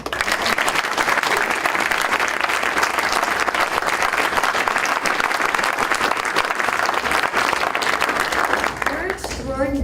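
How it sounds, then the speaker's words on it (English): An audience at a Holocaust education bill signing applauds Alan and Lori Zekelman with loud, steady clapping that lasts nearly ten seconds, and a voice comes in right at the end. "I'd like to applaud them."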